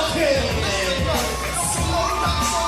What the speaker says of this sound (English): Sounds like the crowd is on her side